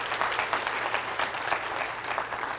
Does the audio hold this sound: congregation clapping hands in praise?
yes